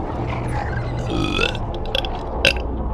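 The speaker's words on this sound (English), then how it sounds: "A good burp." A burp from a female streamer during a fighting game stream, a rumbling belch that swells around the middle and ends with a few short clicks, close and fairly loud over a steady room background.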